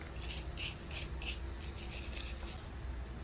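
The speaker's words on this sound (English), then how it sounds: "just cleaning up the brake caliper bracket. Just clean up the, the mounting surfaces." Quiet, rhythmic scrubbing of a car's front brake caliper bracket mounting surfaces, about eight short rasping strokes in quick succession under a low steady background hum.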